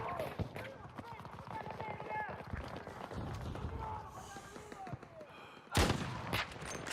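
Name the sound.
gunfire in the video game Battlefield 6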